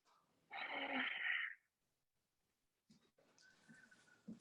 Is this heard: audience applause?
no